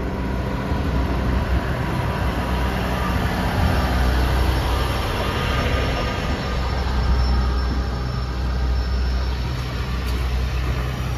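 A London to Aberdeen train passes a level crossing at Moat Hills, a loud, steady rumble of rolling rail wagons that holds close and continuous throughout with no talking.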